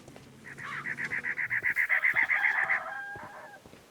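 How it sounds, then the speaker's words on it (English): A rooster crows in the Sherlock Holmes Crimes and Punishments video game, one long pulsing cock-a-doodle-doo of rapid repeated notes that swells, then trails off, moderately loud and alone. "Why is there a cockerel crowing?"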